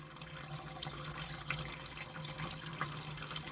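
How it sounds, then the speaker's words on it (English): A caravan water tap runs and splutters as trapped air is purged from the pipes after winter storage, giving a steady rush of water broken by irregular bursts and gurgles, close by and fairly quiet, with no talk. "once all the air has stopped burping, we know we've pushed last year's water out"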